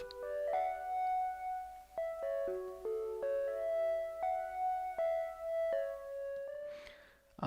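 A synth sine-wave patch with detuned unison voices, reverb and tube distortion plays a slow sequence of sustained notes at moderate volume, ending in a brief noisy swell.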